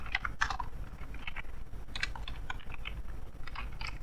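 Rapid bursts of computer keyboard typing, close and crisp, with irregular clusters of keystrokes and brief pauses between them.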